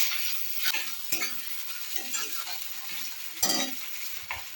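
Onion frying in hot oil with hing and crushed garlic, sizzling steadily while a utensil stirs and scrapes the pan in several sharp strokes, with no talking.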